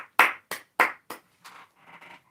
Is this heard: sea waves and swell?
no